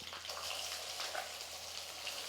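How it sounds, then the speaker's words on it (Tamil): Raw ground coconut paste sizzles gently in hot oil in a pan on low heat, a soft, continuous crackle and hiss with no talking. "நல்லா ஒரு 2-3 நிமிஷத்துக்கு வந்து எண்ணெயில் வந்து நல்லா வதங்கணும் அந்த தேங்காய் விழுது"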